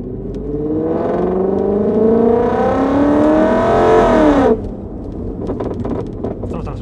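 A BMW E30 fitted with a V8 engine revs hard, its exhaust rising in a loud climbing roar for several seconds before the throttle drops off abruptly into a lower idle burble.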